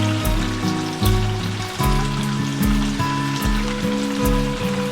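Tofu deep-fries in very hot oil with a continuous crackling sizzle like light rain, set against a rhythmic, thumping musical backdrop.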